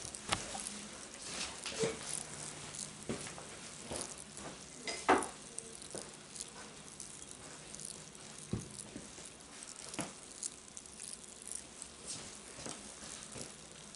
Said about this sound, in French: c'est la larve avec ses petites dents qui, hop, qui frottent pour avoir à manger